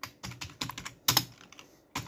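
Close, quiet keystrokes on a computer keyboard as a name is typed: about a dozen irregular clicks in quick bursts with brief gaps, nothing else audible.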